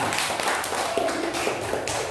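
Classroom students clapping for a student group, a short burst of scattered, uneven claps and taps close by, with light background voices.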